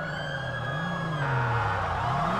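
Wailing police sirens in a video game with a rising and falling pitch, loud and close, continuing steadily with no talking.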